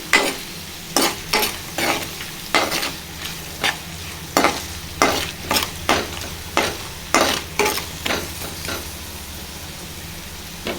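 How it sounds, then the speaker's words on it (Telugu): Green chilli pieces frying in a pan for a village-style gongura curry, stirred with a utensil that scrapes in a steady series of roughly fifteen sharp strokes over a low sizzle, close and fairly loud, no voices. "ఇప్పుడు పచ్చిమిర్చి వేసుకోవాలండి"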